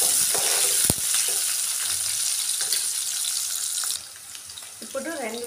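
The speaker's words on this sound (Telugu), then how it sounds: "జీలకర్ర చిటపటలనే వేగాక ఉల్లిగడ్డలు వేసుకోవాలి ముందుగా." Chopped onions and green chillies sizzle in hot oil with cumin seeds while being stirred for a cauliflower curry, a steady loud frying hiss with a few spoon clinks and someone speaking briefly near the end.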